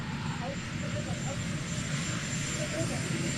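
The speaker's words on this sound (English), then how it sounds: "Listen to that helicopter." A steady droning helicopter engine roar fills the scene, close and continuous, with a faint high whine on top and no voices.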